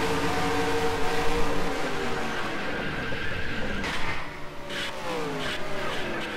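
In the NASCAR Racing 2003 video game, a stock car's engine screams and whines as it spins and flips, tones swooping and falling, then harsh crash bursts near the end, steady and fairly loud with no talk.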